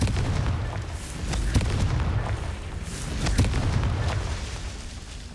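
Confringo blasting-spell explosions in the video game Hogwarts Legacy roll out as a dense, booming rumble, with repeated sharp blasts cracking through over several seconds.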